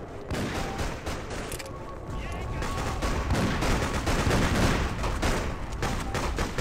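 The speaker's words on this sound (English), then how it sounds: "That's a lot of bullets." Heavy gunfire in the video game Freedom Fighters, dense bursts of rapid automatic shots rattling without pause, loud and close, with a voice faintly underneath.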